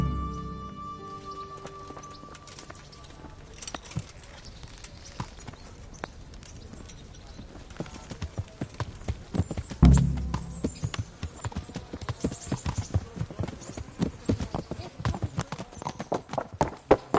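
Horse hooves clip-clop in Kingdom Come: Deliverance, a steady rhythmic beat that grows louder and quicker toward the end, with faint voices underneath.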